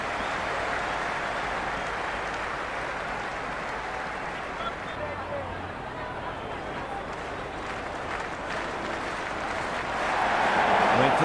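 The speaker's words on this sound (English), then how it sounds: "The crowd is electric right now." Cricket stadium crowd roaring at a T20 World Cup final between India and New Zealand, a continuous, dense wash of cheering that swells near the end, with commentary over it.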